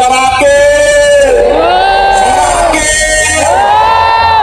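A large crowd at a rally in Sukabumi roars with loud, sustained cheering, shouting and jeering, voices rising and falling together without a break.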